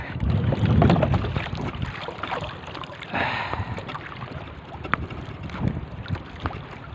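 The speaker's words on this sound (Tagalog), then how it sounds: "palakas ng palakas ang hangin mga idol" Gusty wind buffets the microphone while canoeing on open water, a rough roar that swells and fades, mixed with faint paddle and water sounds and occasional small knocks.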